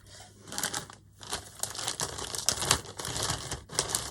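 Scissors or a blade work through a piece of jute with a dense, crackling fibrous rasp in close bursts, broken by a short pause, with no voices.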